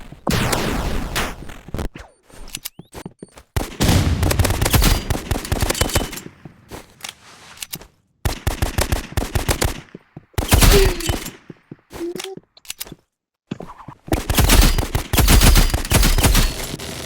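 Rapid bursts of video game gunfire from a sniper rifle in the Marvel Rivals shooting range, loud close shots arriving in clusters separated by short silent gaps.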